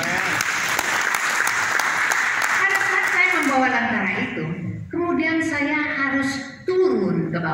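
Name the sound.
congregation applause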